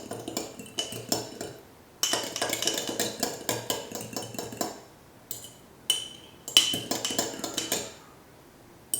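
Red wine vinaigrette ingredients are mixed in a container, with irregular clinks and scrapes of a utensil against the vessel, close up and in bursts with brief pauses.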